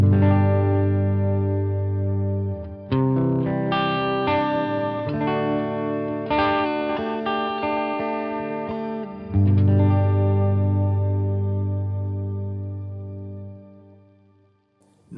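A clean electric guitar rings out in sustained chords drenched in lush, shimmering synth-like reverb, with strummed changes partway through and a long fading tail.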